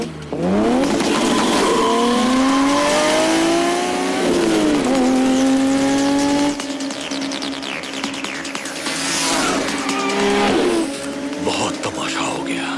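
A car in an action movie scene turns hard and accelerates, its engine revving up in rising sweeps while the tires squeal, loud and close, easing off toward the end.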